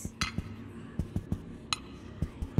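Sharp metallic clinking sounds in the game Pocket Mirror, irregular taps of varying brightness spaced across a few seconds over a low steady hum, some louder and ringing higher than others.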